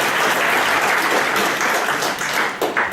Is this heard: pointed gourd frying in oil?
no